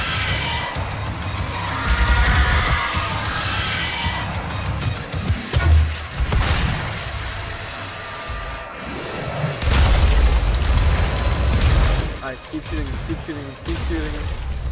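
Gunfire and blasts from the video game Doom, a dense run of booming explosions and shots with heavy low-end thumps surging between 2 and 12 seconds over continuous action noise, with someone talking throughout.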